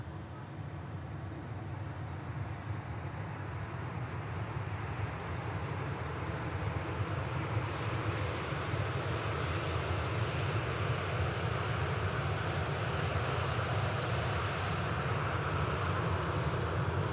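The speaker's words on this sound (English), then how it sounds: "Ryanair 737-8200 rolling out. Coming in from Cork." Ryanair Boeing 737-8200 in from Cork rolling out after landing at Manchester Airport on a calm day, a fairly distant, even engine rumble and rushing hiss that holds steady without breaks.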